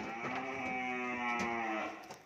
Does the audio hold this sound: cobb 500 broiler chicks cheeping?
no